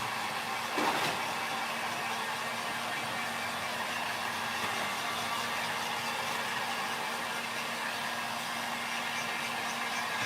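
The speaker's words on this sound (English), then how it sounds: "When you're drying crackle, always keep your heat gun at a safe distance." Steady, close whooshing roar of a heat gun force-drying crackle medium, running continuously at even loudness for the whole stretch with a faint hum underneath and no talking.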